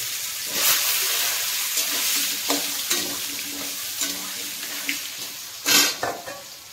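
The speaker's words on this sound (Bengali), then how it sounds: "তেল গরম হয়ে গেছে, আমি আলুটা দিয়ে দিচ্ছি।" Potatoes coated in salt and turmeric sizzle loudly in hot oil, a close, continuous hiss broken by stirring scrapes and a sharp burst of crackle near the end.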